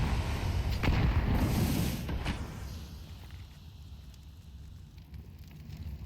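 A frag grenade goes off in Counter-Strike during a pro match, a loud blast and roar in the first two seconds that fades into a low, hissing rumble.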